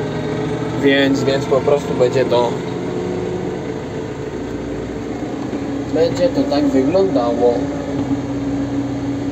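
A tractor engine idles with a low, steady hum that drones throughout at a silage pile, while a person speaks over it in two short stretches.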